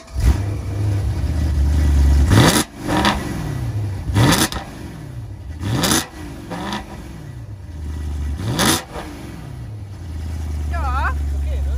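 BMW M3 E92 V8 engine revving in several sharp bursts that climb and fall back to a rumbling idle, fairly close, with people talking over and between the revs.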